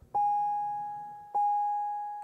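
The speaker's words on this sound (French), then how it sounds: "ça ne fait que biper partout" A Corvette C6 in accessory mode gives two sustained electronic beeps, each a bright steady tone that slowly fades, the second starting about a second after the first, in a quiet car interior.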